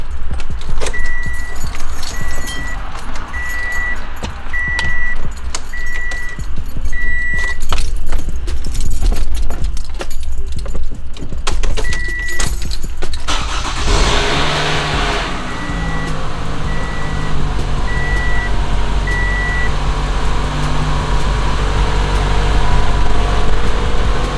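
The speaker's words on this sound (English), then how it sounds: "Let's turn the car on, and that's what we're really gonna see." A car engine turns over and settles into a steady idle, with warning chimes beeping in a regular pattern before and after the start.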